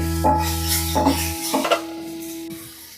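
A spoon scrapes and clatters through cabbage curry in a metal pan, followed by a lid clanking down, giving a few close, sharp metallic knocks over a low kitchen hum.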